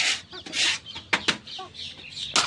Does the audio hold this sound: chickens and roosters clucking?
yes